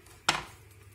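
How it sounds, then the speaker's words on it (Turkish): A knife chops through red cabbage in a home kitchen, a single sharp cut at close range followed by a brief ringing tail, with faint background hum. "Ben böyle kırmızı lahanayı uzun uzun doğrarım."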